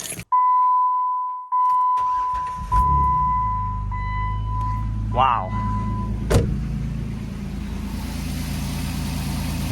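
A Jeep Wrangler JK, freshly given an oil change with an oil additive, chimes a steady warning tone, then its engine cranks and settles into a low, even idle; a person briefly exclaims over it.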